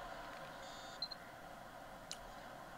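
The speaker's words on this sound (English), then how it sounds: "if you can hear a little like boom, beep. So I know that there is a trap somewhere nearby" Short electronic beeps from a trap proximity warning in the Unit 13 game on PlayStation Vita, a faint chirp near the start and another about a second later, over steady game background noise.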